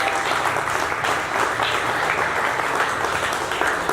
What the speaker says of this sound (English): Let's give Suzanne a nice round of applause